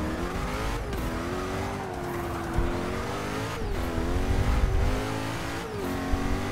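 Koenigsegg Agera engine racing around the Daytona sports car circuit, a loud, continuous revving roar with rising and falling pitch as it shifts through gears, with brief tire squeal mixed in.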